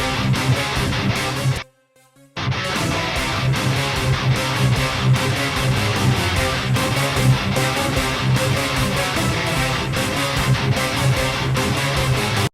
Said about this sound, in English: So this is the keyboard that ended up in the final song.